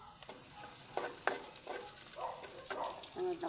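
Garlic frying in hot cooking oil in a pan: a bright, continuous hiss and sizzle with bursts of crackle as it is stirred, close and fairly quiet, with no talking.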